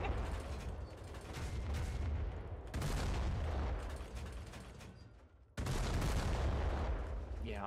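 Battleship guns fire in the war game Foxhole in three heavy booming bursts, each followed by rumbling, mechanical reload noise, with faint voices in the background.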